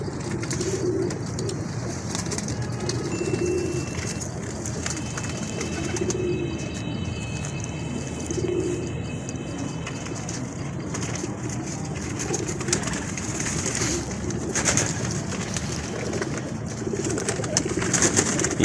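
Star pigeons kept by a hobby pigeon fancier coo in low, soft, repeating phrases every couple of seconds, close by over steady background noise, with no one talking.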